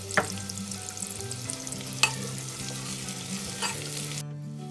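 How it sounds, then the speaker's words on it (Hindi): Onions and cashews frying in a pan for pulao make a continuous, bright sizzle with occasional sharp spatula taps, heard close up, before cutting off abruptly. "प्याज को ब्राउन होने तक हम इसे पकाएंगे और लगभग 8 से 10 मैंने काजू लिया था, मैंने इसमें ये भी ऐड कर दिया।"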